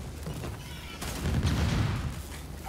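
Automated sentry turret firing during a Gears 5 horde-style match, a dense rattling fusillade of rapid shots that builds and swells midway, loud and close amid game ambience, with no voices.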